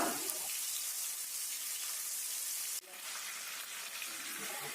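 Fish frying in hot coconut oil, a continuous close hiss and sizzle with a brief dip partway through before the steady frying resumes, no one speaking.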